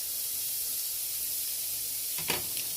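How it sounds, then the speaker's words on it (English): Diced onions hit a hot pan of browning ground turkey and ground beef, giving a steady soft sizzling hiss with a faint clink near the end. "I'm going to begin by adding my diced onions"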